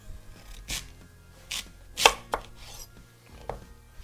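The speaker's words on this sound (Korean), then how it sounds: "요 정도 되니까 반 잘라줄게요" A kitchen knife cuts through an autumn radish on a cutting board, giving a few separate sharp chopping knocks spaced unevenly, close and clear with no talking.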